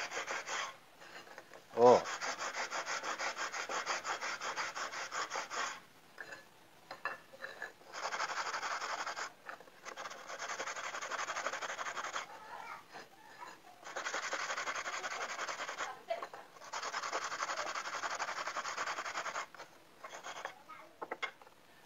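Sandpaper rubs a piece by hand in repeated bursts of dry, scratchy strokes, each lasting a few seconds with short pauses between, close and fairly quiet, with a brief spoken interjection early on.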